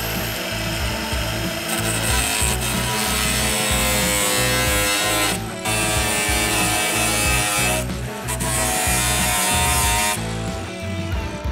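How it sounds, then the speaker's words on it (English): A screw extractor removal tool, power-driven, grinds steadily into a stuck screw on an abandoned airplane, giving a loud sustained whirring and rasping with a few brief pauses. "when I get a stuck screw that won't come out, I'll usually take my screw adjuster removal tool"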